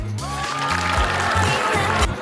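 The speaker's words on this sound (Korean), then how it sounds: "우리 박수 한번" Audience at a corporate sports day workshop breaking into applause, a short burst of clapping from a group indoors, loud and close, with a faint tonal background hum.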